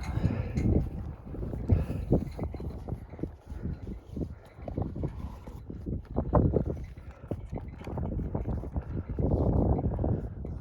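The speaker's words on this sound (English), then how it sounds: "It's a bit windy" Wind gusts outdoors on a hill above the St. Lawrence River in Eastern Ontario, buffeting the microphone as a steady, blustery low rumble that swells and eases throughout.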